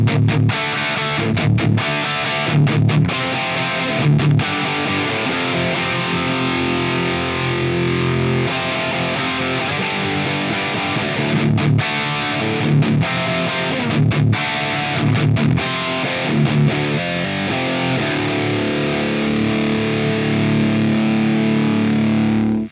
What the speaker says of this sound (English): it gets a little bit more of that sort of Marshall-y plexi sound